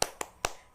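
Three crisp, close claps in an uneven rhythm, part of a tepuk semangat clapping chant led by a teacher in an online class for children; quiet and isolated, with no voices over them.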